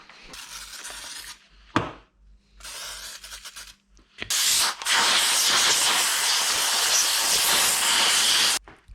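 Spray bursts of brake cleaner and blasts from an air gun hiss close by on car parts, several short sprays first, then a long loud sustained air blast.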